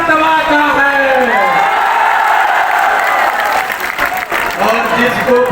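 Large political rally crowd at Gandhi Maidan, Patna, cheering, whooping and applauding loudly and steadily, with a dense wash of claps and shouts that dips briefly near the end before swelling again.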